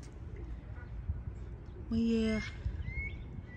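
A bird gives one short, clear call amid a quiet outdoor background with faint murmuring, followed by a brief higher chirp.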